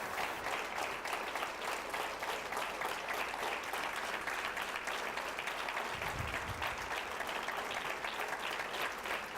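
A large audience applauding after a talk on chemical-free horticulture, a dense, steady wash of clapping throughout that sounds somewhat distant and even in level.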